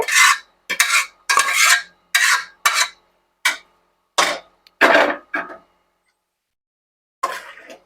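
A spoon scrapes and stirs cauliflower and green peas curry in a pan, in a series of short, close rasping strokes with brief pauses and a longer gap near the end.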